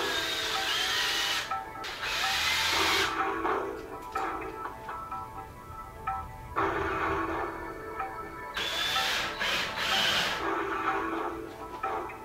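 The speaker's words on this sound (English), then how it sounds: "you're always going to want to pre-drill the holes to make sure that the lags go in smoother" A power drill pre-drills holes for lag screws during a flat-panel TV wall mounting, whirring in several bursts, spinning up and winding down between runs, with a steady hiss in the background.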